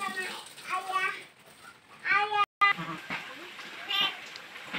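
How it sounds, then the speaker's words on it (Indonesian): Batur sheep ewes and young lambs bleating in a farm pen, several harmonic bleats rising and falling over a few seconds, fairly close, with a short gap mid-way and low background noise. "Ini jenis domba batur induk."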